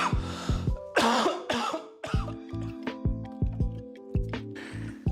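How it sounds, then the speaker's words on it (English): A person in a sudden coughing fit: repeated harsh coughs and throat-clearing bursts come in quick succession over a steady musical hum, loud and close. "I had a coughing fit and I just felt like I was going to pass out"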